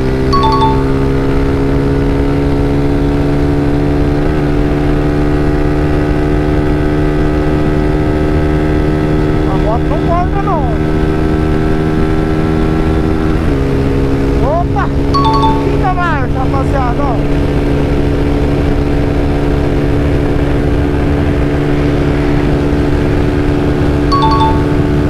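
A Honda Fan 160 motorcycle with a modified camshaft accelerating, a steady droning engine that holds a fairly constant pitch with one shift near the middle, recorded close and loud throughout.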